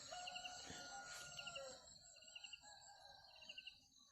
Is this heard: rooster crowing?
yes